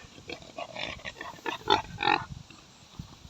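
A young pig being tied up on a farm gives a series of short, close grunts and squeals, louder in the middle and fading toward the end.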